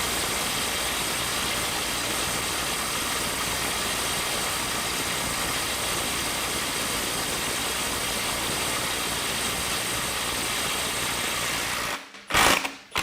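Snap-On CT9010 impact wrench set to 350 foot-pounds, running continuously for about twelve seconds with a steady whirring, hammering drone, then stopping with a few short bursts at the end.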